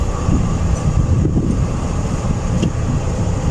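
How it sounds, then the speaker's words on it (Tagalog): A Boeing 777 airliner repositioning on a runway gives a continuous loud, deep rumble and whine, close and steady throughout with no pauses. "Boeing 777"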